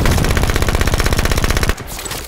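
Rapid automatic weapon fire in the video game Halo 5, a loud, close, evenly paced burst of about two dozen shots that stops abruptly, leaving a faint tail.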